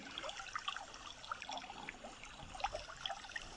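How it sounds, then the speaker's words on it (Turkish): Small waterfalls in Ballıkayalar nature park near Gebze, Kocaeli, give a steady, soft trickle and splash of running water, fairly faint and even throughout, with no one speaking. "Karşınıza minik minik şelaleler çıkıyor."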